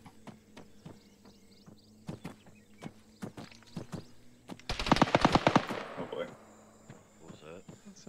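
An M249 machine gun fires in Arma 3: scattered single shots, then a dense rapid burst of close, loud gunfire lasting about a second, with fainter distant shots trailing afterward.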